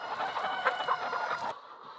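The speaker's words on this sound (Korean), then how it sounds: "닭들은 모이통 주변으로 몰려 있고 어떤 닭은 기둥 위에 올라서 있다" Chickens, mostly brown with some white, clucking inside a crowded poultry house around feeders, a steady busy chorus of overlapping clucks and calls at moderate distance, dropping to quieter background after a second and a half.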